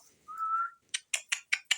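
A pet parrot whistles on command: one steady, drawn-out whistle, then a quick run of five short, sharp chirps, close and clear with no talking.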